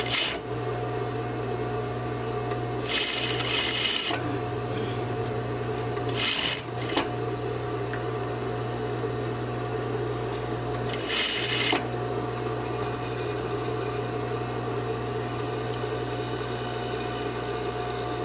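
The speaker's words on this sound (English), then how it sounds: "Make sure you stitch over just enough to conceal that seam." A sewing machine stitches a rugby shirt placket, running in steady mechanical bursts with brief pauses and a constant motor hum, loud and close with no talk.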